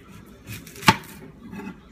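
A single sharp knife chop strikes a cutting board, one crisp isolated thud amid quiet kitchen ambience with faint handling noise around it.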